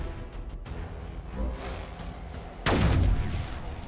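Gunfire in the Warhammer 40k Battlesector strategy game, a busy wash of battle noise building to one loud, sharp blast near the end that rings on as a heavy boom.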